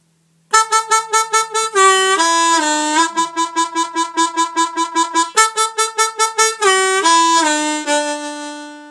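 D harmonica played in second position, sharp rhythmic two-hole draw notes with whole-step bends, loud and close, repeated pulses alone without talk.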